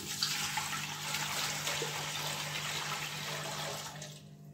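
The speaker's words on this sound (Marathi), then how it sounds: "तर हे 3 भांडे आपण पाणी ऍड करतोय" Three measures of water are poured into a cooking pot while making sabudana papad, giving a steady close rushing splash for several seconds that tapers off at the end.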